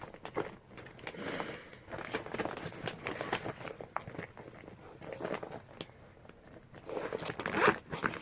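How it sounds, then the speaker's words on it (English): A plastic zip bag from a knitting kit is opened with repeated crinkling rasps and zipper-like scrapes, close and fairly quiet, ending in a louder tear. "I love how their kits come in little plastic bags."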